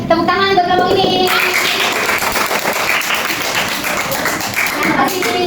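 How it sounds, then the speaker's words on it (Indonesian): A classroom of students clapping for a group that has just finished presenting, a dense burst of applause lasting throughout, with a brief voice at the start. "tepuk tangan buat kelompok ini"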